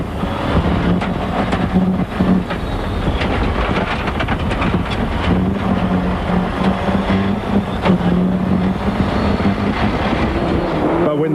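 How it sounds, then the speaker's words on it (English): A Ford rally car's engine, faltering on a gravel stage at the 1994 Rally Canterbury in New Zealand, drones loud and close. Its rough, continuous roar carries a wavering tone for the whole stretch. "In this Ford, the car starts to falter."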